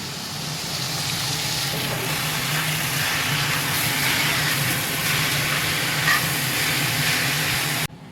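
Garlic and ginger frying in oil for a home-cooked dal, a steady broadband hiss and sizzle that holds evenly throughout with no talking, then cuts off abruptly at the very end.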